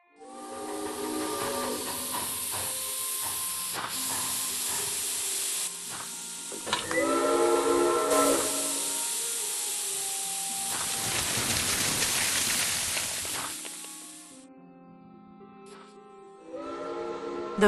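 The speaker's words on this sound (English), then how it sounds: "Those whistles mean a train with a snowplow has arrived" Steam train arriving with a snowplow, a loud hissing rush of steam with tonal whistle blasts sounding repeatedly in the first half, then fading near the end.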